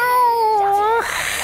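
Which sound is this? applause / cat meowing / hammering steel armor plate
cat meowing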